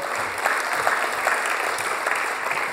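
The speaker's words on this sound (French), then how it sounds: "je voudrais aussi qu'on ait un vrai tonnerre d'applaudissements pour Absat aussi" Sustained crowd applause at a startup competition final for a serial entrepreneur, a thick even wash of many hands clapping throughout, with no voices on top.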